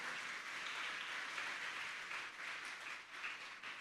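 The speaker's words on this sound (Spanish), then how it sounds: "¿Le puedes dar un aplauso al Señor?" Church congregation applauding during a sermon, a faint, distant wash of sustained clapping that holds evenly throughout, with no voices standing out.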